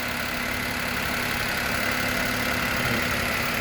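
A petrol Maruti Wagon R VXi engine idles steadily just after a cold morning start, a continuous even hum with a faint hiss, heard alone and fairly close with no talking.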